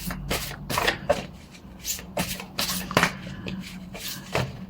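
Postcard-style cards are shuffled and drawn from a deck in a tarot reading, giving a close run of quick riffling and flicking bursts in an uneven rhythm with no speech.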